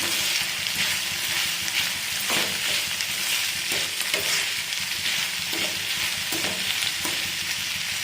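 Leftover rice mixture sizzles and fries in a pan while being stirred, with a steady frying hiss and soft, scattered scraping strokes of the utensil throughout, close and fairly loud, with no talking.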